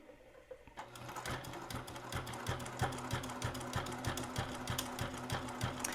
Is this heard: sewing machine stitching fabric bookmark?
yes